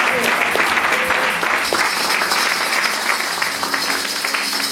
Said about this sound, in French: si on peut aussi acclamer pour sa vie